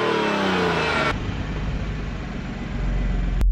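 An Audi B8 S4 with an Integrated Engineering Stage 1 tune accelerates hard from the start of a quarter-mile run, its engine roaring loud before an abrupt gear change and a steady climbing drone.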